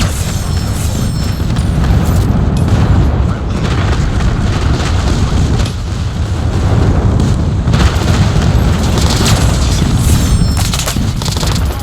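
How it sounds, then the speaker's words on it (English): Airstrike explosions in Call of Duty Mobile: a dense, loud, continuous barrage of booming blasts and gunfire-like cracks filling the whole stretch with no pause. "Friendly airstrike incoming."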